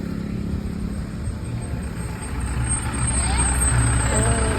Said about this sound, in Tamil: உங்கள் வேன் வந்துருச்சு